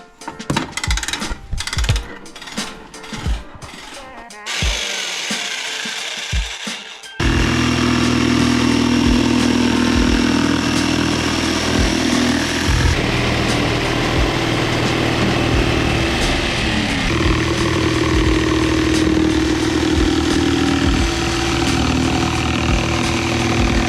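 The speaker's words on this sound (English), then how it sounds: "jigsaw right here" A jigsaw cuts a hole in the floor of a teardrop trailer, heard close and loud as a continuous buzzing drone that starts after several seconds of short bursts and stops.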